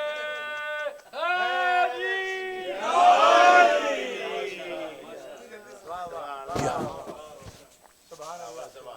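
A crowd at a religious celebration for the birth anniversary of Imam Muhammad Baqir chants slogans in unison, with loud swelling voices and a leading voice calling out between the rounds.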